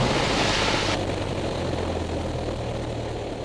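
The engine of a small training airplane drops from a higher roar to a steady idle drone, a loud, constant hum heard from the cockpit with no talking.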